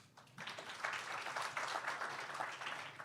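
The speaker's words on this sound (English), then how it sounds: "Let's welcome our panel chair and panelists with another round of applause." An audience at an awards presentation ceremony welcomes a panel chair and panelists with applause that swells in after a short pause and holds steady, fairly faint and distant, with no speech over it.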